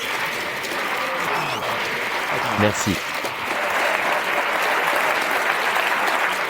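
Audience applause after a magic trick at a live stage talk, a dense steady patter of many hands filling the whole stretch, with a brief spoken word from the performer partway through.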